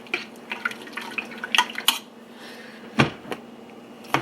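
Soft clinks and wet scrapes of a spoon stirring lentil soup in a pot, scattered irregularly over about four seconds with a louder knock near the end, fairly close, with no talk.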